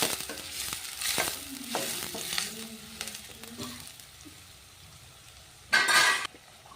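Onions frying with ginger garlic paste in a pan for a capsicum palya, a steady soft sizzle with occasional stirring scrapes and a brief louder burst of sizzle near the end, no talk.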